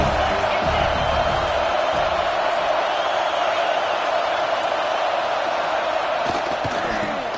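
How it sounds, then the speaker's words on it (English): A Madden 24 football video game stadium crowd roars in a steady, dense wash of cheering and noise that fills the whole clip, with no break and no single voice standing out. "This crowd ready to make its presence known."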